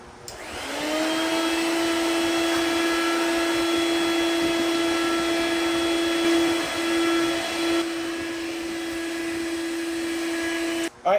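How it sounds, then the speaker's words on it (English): An Etenwolf Vortex S6 air compressor pump drones loudly as it deflates an air mattress, a steady close motor whine with a strong tonal hum that dips slightly in pitch late on before cutting off abruptly. "we'll see how long it takes to deflate this mattress"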